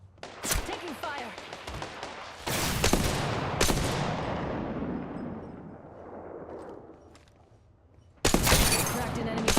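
Video game gunfire arrives in loud sharp bursts and cracks, separated by stretches of decaying rumble, and a final heavy volley closes it out, with bits of game voice lines between the shots.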